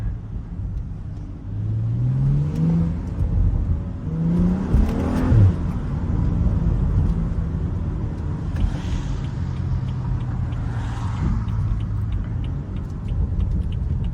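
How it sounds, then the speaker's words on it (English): A BMW F30 335i accelerates hard while driving, its engine droning as pitch climbs through gears, with a few sharp exhaust crackles and pops mixed into the steady road rumble. "Damn, listen to them pops."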